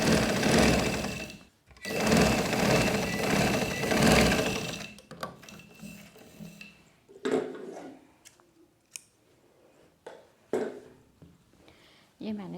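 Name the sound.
sewing machine stitching a frock sleeve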